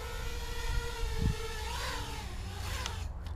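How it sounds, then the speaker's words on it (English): An Ideafly Grasshopper F210 race quadcopter winding down its throttle to land, a close buzzing whine of small motors with tones that slide and drop before the sound cuts off abruptly at the end. "I'm gonna go ahead and kill the throttle, come in and land."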